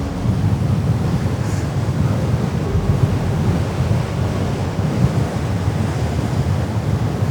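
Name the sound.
ocean waves breaking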